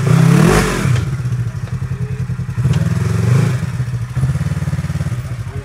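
A motorcycle engine revs and bogs on an off-road trail at Windrock, loud and close, surging in repeated bursts with clattering and thuds as the bike climbs over rough ground.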